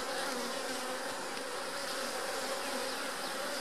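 Honey bees hum from an open hive just split in two, a dense, continuous buzzing swarm sound, steady and fairly near, with no voices over it.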